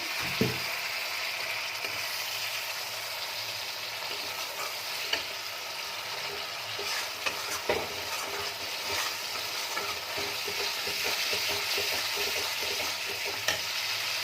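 Spice masala with potatoes and peas sizzles in a pan as it is stirred, giving a steady close frying hiss broken by occasional scraping knocks of the spoon, with no talk.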